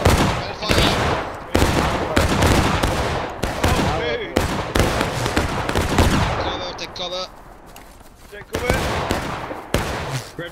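Dense, ragged volleys of musket and rifle fire ring out in War of Rights, sharp cracks overlapping in rapid bursts with brief lulls, voices shouting orders and chatter over the battle.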